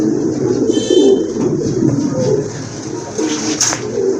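Pigeons, including a white-tailed, white-winged crested bird, coo at a seller's loft in Bangladesh, with repeated throaty calls up close and brief higher chirps mixed in.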